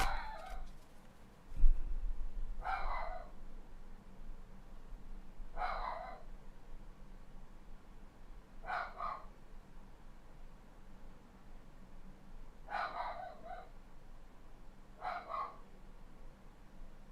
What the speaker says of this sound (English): no barking, buddy